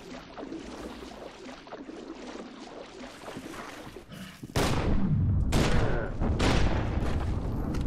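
Shotgun blasts in F.E.A.R. 2 boom loud and close, several heavy shots spaced a second or so apart after quieter scuffling combat noise.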